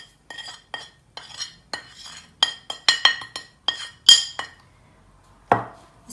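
A metal spoon clinks and scrapes against a bowl while mixing spices into a gram flour batter, giving a run of sharp, close taps at an uneven rhythm before one final louder knock.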